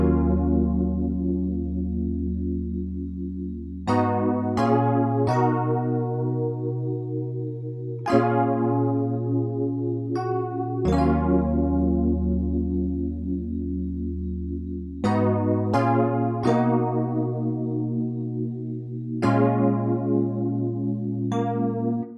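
Sampled keyboard chords from the Keyscape instrument, treated with reverb, EQ and a chorus plugin, ring out in sustained swells with bright struck attacks every couple of seconds, loud and alone with no voices.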